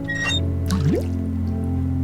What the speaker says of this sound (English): I'm going to use the bucket with the water pump to get a bucket full of water